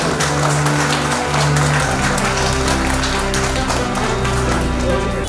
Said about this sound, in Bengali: আপনারা একটু করতালি।